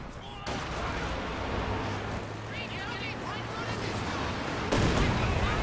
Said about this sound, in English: nice Katyusha barrage there